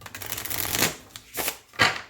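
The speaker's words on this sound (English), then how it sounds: "I can rifle shuffle them, so that's nice." New, slightly stiff tarot cards are riffle shuffled up close: a fluttering burst of flicking cards, then a couple of quick bridging riffles and snaps.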